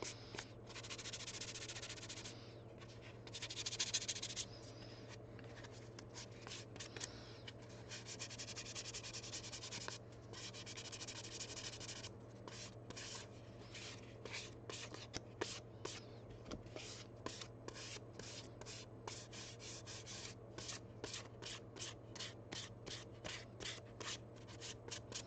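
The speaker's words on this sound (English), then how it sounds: "This is just 400 grit sandpaper." Fine 400 grit sandpaper rubbing over a prop visor for a Cyclops costume, a soft, close, steady scratchy rasp in short repeated strokes, faint against a constant low electrical hum, with speech present.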